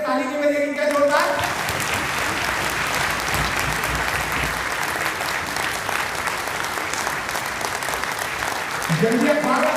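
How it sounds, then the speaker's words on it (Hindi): Loud, dense applause from an event audience for Suresh fills the room and holds steady for several seconds, with a speaker's voice briefly heard at the start and end. "अरे सुरेश के साथ के लिए ताली नहीं बजेगी क्या जोरदार?"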